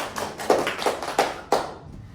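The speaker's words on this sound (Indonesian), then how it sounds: "tepuk tangan" Students in a classroom clap their hands in a short, uneven burst, several sharp claps spaced irregularly at close range before fading out, with no voices over them.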